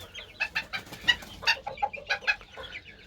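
A rooster gives an unusual soft, dove-like call, a rapid series of short bright clucking pulses over about three seconds, close and clear with no talk.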